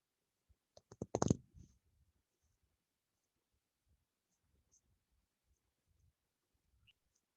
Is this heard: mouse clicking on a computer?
yes